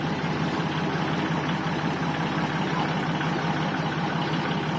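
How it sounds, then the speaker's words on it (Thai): A vehicle engine idles steadily with a loud, low, continuous rumble while moving a rice mill, holding constant throughout with no voices. "เดี๋ยวดับเครื่องก่อนก็ได้เนาะ"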